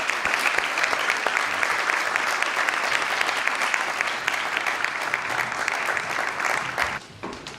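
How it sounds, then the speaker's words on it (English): An audience at a medical students expo gives a long, steady round of applause as presenters leave the stage, crisp and dense clapping that thins out and fades near the end. "give them a round of applause even as they get off"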